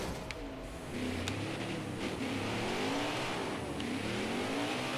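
Race car engine revving steadily with tire noise as a car spins out in NASCAR Heat 5, a continuous loud engine drone with wavering pitch.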